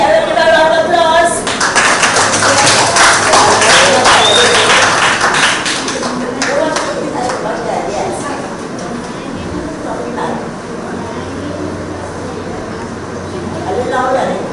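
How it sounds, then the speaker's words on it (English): A small group in a studio claps together in a dense, steady round of applause that is loudest early on and then tapers, with people talking over and around it. "See everybody, I will give a round of applause."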